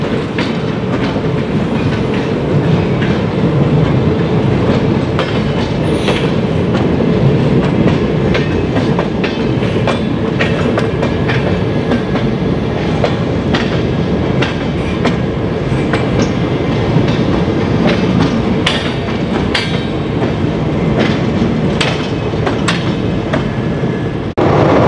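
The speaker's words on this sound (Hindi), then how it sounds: "हमारी ट्रेन ने गोविंदपुरी जंक्शन को पार किया" A passenger express train runs on rails near Govindpuri Junction with a loud, continuous rumble and rhythmic clickety-clack of wheels, heard from on board with occasional metallic squeaks.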